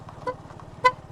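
Two quick, thin horn beeps from a Suzuki Gixxer 155 FI motorcycle, whose horn works on only one tone, the second beep louder, over a low idling engine rumble.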